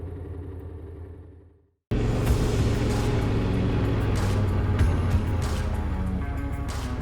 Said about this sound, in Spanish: que Gonzalo sigue por carretera con mi GSA, yo voy a tomar un pequeño atajo para ir catando la TND 700.